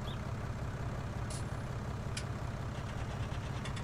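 A truck engine idles in the farming game Farming Simulator 19, a steady low rumble that runs unbroken throughout, with a couple of brief hissing bursts from the air brake and no talking.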